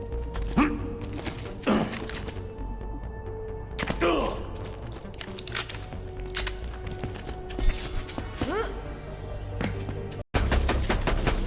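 Gunfire in Borderlands 2, a dense stretch of rapid shots with mechanical clanks and thuds layered over the game soundscape, staying loud throughout with a brief cut near the end.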